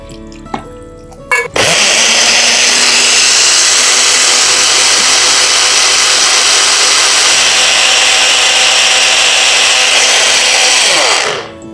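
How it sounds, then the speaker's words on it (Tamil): Electric mixer grinder blending adathoda leaves with a little water, starting after a few clicks and running as a loud, steady high whine with churning for about ten seconds before spinning down. "இந்த ஆடாத்தோடை இலைகளோட கொஞ்சமாக நீர் விட்டு அரைச்சி சாறு எடுத்துக்கலாம்."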